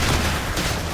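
Gunfire in combat against enemy fighters, a dense continuous barrage of loud, close shots and booms filling the whole second with no pauses.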